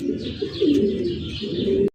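Pigeons coo close by in a steady run of low, throaty rolling calls, with a few lighter chirps above, ending abruptly.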